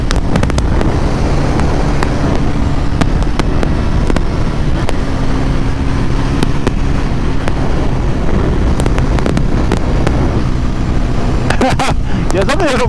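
A Bajaj Pulsar NS 400Z motorcycle engine drones steadily while riding on an open road, heavily buffeted by wind noise on the microphone, with a few sharp knocks and bursts toward the end.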